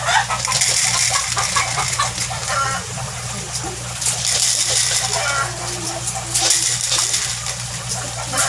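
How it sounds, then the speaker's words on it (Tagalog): Chickens clucking in the afternoon at feeding time beside a wooden tarp-lined backyard pond, bursts of clucking over a constant low hum and trickling, splashing water. "Medyo maingay na rin yung mga manok kasi hapon na, feeding time na rin nila."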